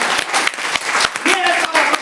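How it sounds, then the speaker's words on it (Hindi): Audience clapping at a motivational business gathering, a dense steady patter of many hands filling the room at moderate loudness, with a voice briefly audible over it. "ताली बजा लो।"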